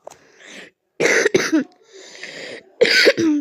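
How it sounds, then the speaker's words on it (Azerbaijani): A few harsh coughs in short bursts, close and loud, with quieter breathy sounds between them. "Biraz öskürürüm"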